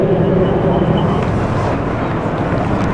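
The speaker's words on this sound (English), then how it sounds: "As you hear more engines winding up as we're getting ready to time travel." Engines of WWII aircraft, a C-47, B-24 and B-25, winding up on the ground as a steady, loud, rumbling drone with wind noise across the microphone.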